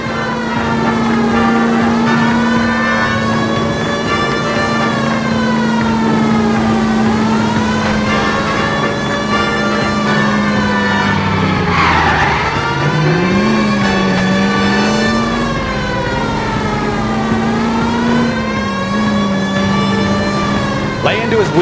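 Police siren wails in rising and falling sweeps over a loud, steady car engine during a video-game chase after a stolen green Kaiser Fraser in L.A. Noire, the pursuit car revving hard throughout.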